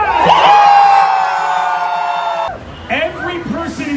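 A live crowd cheers and whoops loudly in one sustained roar, fading as scattered shouts and a few voices carry on afterward.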